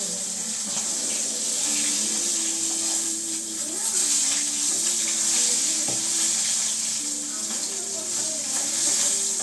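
Mustard oil sizzles in a pan where fish was being fried, giving a loud, steady hiss that holds for the whole stretch, with a faint voice underneath.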